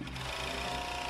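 A small sewing machine joins shirt shoulders in a straight seam, humming continuously and closely at an even pace with no voices.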